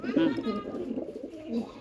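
A pigeon coos at close range, newly brought home and kept for breeding, with soft throaty calls repeating through the clip and a person talking nearby.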